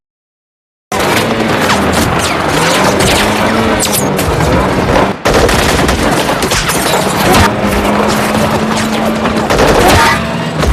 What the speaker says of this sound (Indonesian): Tanpa ragu mereka pun diberondong ratusan peluru hingga membuat mereka kalang kabut.